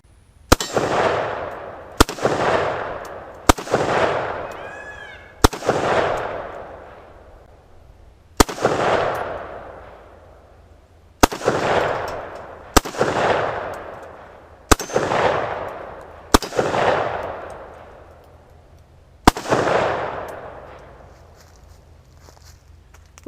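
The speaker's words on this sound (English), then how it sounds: "All right, let me go ahead and run a few rounds through this thing," Eleven loud single shots from a rifle fitted with an M14 flash hider, each a sharp crack followed by a rolling outdoor echo, fired at an uneven pace about two to three seconds apart.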